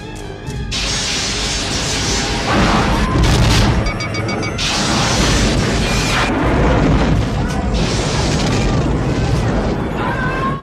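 Phaser fire and explosions pound the starship Enterprise in a Star Trek II film battle, a loud, continuous barrage of booming blasts and crashing impacts with dense rumble and bursts throughout, no clear speech over it.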